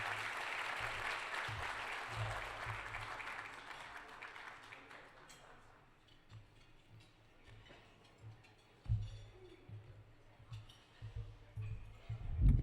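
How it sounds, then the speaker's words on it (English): Applause from an audience at an awards gala, a dense wash of clapping in the first few seconds that fades to scattered claps and room noise with a few low thumps. "Give him another round of applause"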